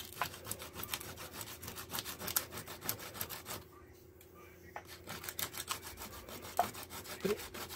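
Coarse hand rasp or file cutting grooves into a wooden knife handle, worked without power tools: steady repeated back-and-forth strokes, close and rhythmic, with a brief pause partway through before the scraping resumes.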